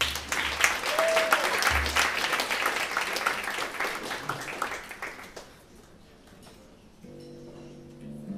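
Studio audience applause for a newly arrived guest on a Russian talk show, a dense burst of clapping that fades after about five seconds into quieter room noise with a low musical tone near the end.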